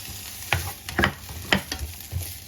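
Ginger and onion hitting a hot wok for a pork stir-fry, giving a few sharp sizzling bursts and scraping stirs in quick succession, close and loud with no talk.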